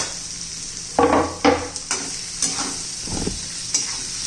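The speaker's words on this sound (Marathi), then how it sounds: "आणि त्यातच आता आपण बारीक चिरलेला कांदा पण घालून घेऊ" Finely chopped onion and ginger garlic paste frying and being stirred in a hot pan for an egg curry, with a steady sizzle under a few louder scraping stirs, close by and with no talk.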